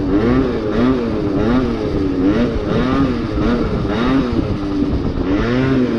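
A Yamaha Zuma scooter engine drones steadily and loud during a slow wheelie, its pitch wavering up and down in repeated throttle swells, close to the rider with no talk.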